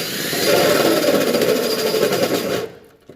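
An old Snap-on power drill, burning out and smoking, whirs loudly and continuously with a rattling, buzzing tone, then cuts off abruptly, leaving a brief quiet with a small clunk.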